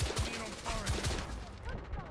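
Gunfire in the video game The Order: 1886 rattles as dense, overlapping bursts of shots over a busy, loud mix of battle noise.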